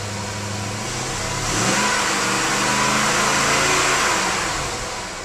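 BMW sedan with a six-speed manual, its engine revving up from idle and holding a steady, loud mid-pitched drone before easing off, close and alone with no talk.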